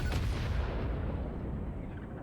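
A nuclear bomb detonates in the video game Satisfactory, a loud, dense explosive roar and rumble that fills the whole stretch and fades only slightly toward the end.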